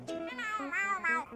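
A cat in the Roblox game Brookhaven gives a run of clear, wavering meows that rise and fall in pitch, fairly close and alone without any talk over them.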